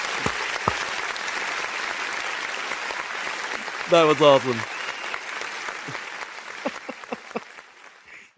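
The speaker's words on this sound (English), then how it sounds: "Give him applause, y'all." A studio audience claps for comedian guest Seattle Mike on a live football talk show, with sustained applause running under a host's speech and a short cheer midway before it tapers off.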